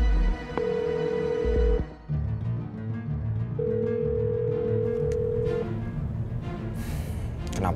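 A phone call rings out unanswered, two steady electronic ring tones, one short and one longer, separated by a pause over a low background hum, with no voices.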